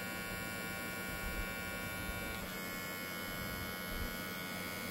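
A Sejoy Hunter hair clipper runs fast at roughly 6,700 RPM, giving a steady, quiet electric buzz with a constant hum and no pauses.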